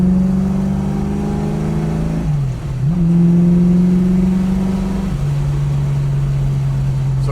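A 1967 Ford Mustang engine revs up and down steadily, its strong low exhaust note rising, dipping briefly, then climbing again before settling into a higher held drone, close and alone without voices.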